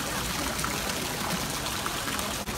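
Water running from a public drinking fountain in Munich in summer, a steady trickling stream that stays even and close for a couple of seconds with no talking.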